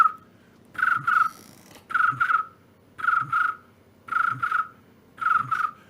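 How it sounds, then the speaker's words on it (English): Crickets chirping as a sound effect: five evenly spaced bursts of shrill, trilling chirps about a second apart, with quiet gaps between them and no voices. "Crickets."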